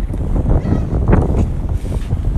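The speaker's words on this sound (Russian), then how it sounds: "О, ветер." Gusty wind rumbling loudly across the microphone, continuous low buffeting that swells and eases throughout.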